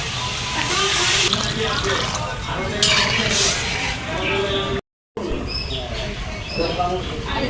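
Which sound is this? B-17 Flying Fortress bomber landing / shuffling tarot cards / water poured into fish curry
water poured into fish curry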